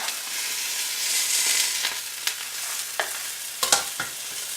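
Steak fries in a hot pan with a steady, bright sizzle, broken by a few sharp pops and scrapes as the meat is moved and stirred. No one speaks.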